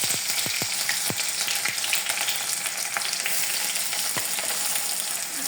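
Cumin and onion fry in hot oil with a loud, continuous sizzle close by, broken by a few sharp clinks as the pan is stirred.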